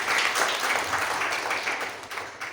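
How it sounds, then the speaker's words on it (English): Audience applause for Justice A.K. Patnaik, a former Supreme Court judge, at a green manifesto release at the Constitution Club of India; steady, moderately loud clapping from a hall crowd that holds for a few seconds. "Let's hear a round of applause for him."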